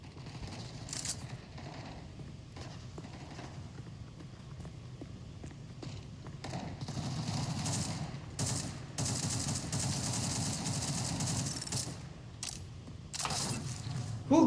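Rapid gunfire bursts from a first-person shooter game, with repeated sharp shots clustered in runs across the clip, fairly loud and dense in places, alongside other game sounds and voices talking over it.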